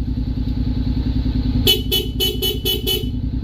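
Steady low idle of a 2025 Honda X-ADV 750 motorcycle, then six rapid honks from its Denso compact horn in quick succession, loud and close.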